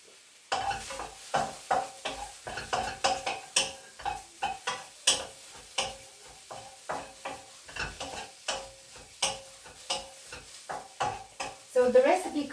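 Mushrooms cooking lightly in a wok for quick curry noodles, stirred with a utensil that scrapes and clinks in a steady rhythm of about two strokes a second over a soft sizzle, close and fairly clear.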